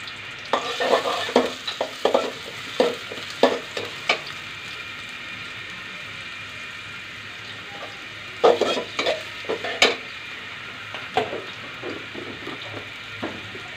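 Onions frying and being stirred in a pan while cooking pumpkin with prawns, a steady sizzle broken by repeated close scrapes and knocks of a spoon, busy at first, then a pause, then more stirring.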